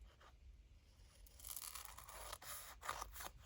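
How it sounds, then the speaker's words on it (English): Scissors snip and scrape through a handmade paper sticker at a craft table, with soft rustling of paper; close, quiet and fairly steady with a few sharper cuts near the end. "So first off, I'm going to cut one off."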